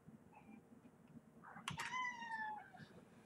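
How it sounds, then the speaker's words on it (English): A cat meows once, a single drawn-out falling cry from a nearby indoor cat, heard against quiet room background with no talking. "Think the cat wants to say hi."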